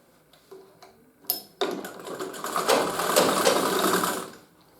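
A tailor's sewing machine stitches the facing onto a gents' trouser body, starting after a few clicks and then running as a loud, close, steady rattling whir to the end.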